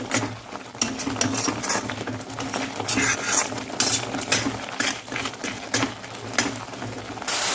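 A thick coconut and sugar mixture for coconut burfi is stirred and fried over a high flame, with steady scraping and clinking of a spoon against the pan and a soft sizzle running throughout.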